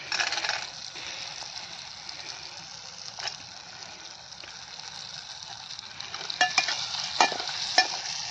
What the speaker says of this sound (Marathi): असा टाकून असं चांगलं हलवून मस्त बनवायचा.